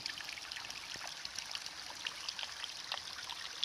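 Water cascading down a steep mountain trail in the White Mountains near Mount Washington, heard as a steady, continuous rushing hiss at moderate distance, with no voices.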